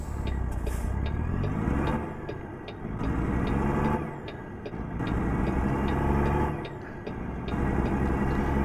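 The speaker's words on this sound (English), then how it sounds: "Sorry about that, guys, the engine sound." Kenworth T680 truck engine in American Truck Simulator: a loud, close diesel rumble whose revs rise and fall in repeated surges, with brief dips between them, alone with no talk.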